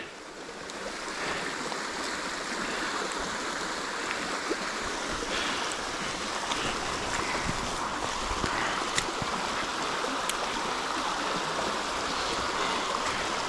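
Floodwater rushes steadily through a beaver dam outdoors, a continuous broad roar of flowing water with faint wind noise and no talking.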